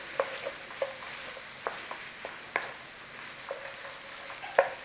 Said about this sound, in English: it's probably going to take about 5 minutes to cook this onion in here